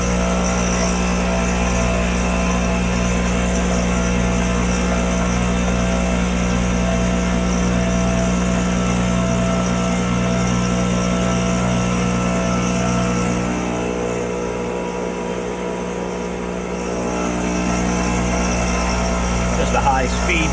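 A milling machine cutting half-inch-thick steel with a high-speed steel quarter-inch four-flute end mill produces a loud, continuous mechanical drone with steady motor hum, dipping briefly before resuming.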